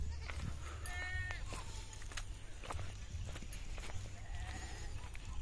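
Goats bleat on a fruit-tree farm lot with fishponds: several short, quavering calls come and go over a low steady background, with faint footsteps and quiet talk now and then.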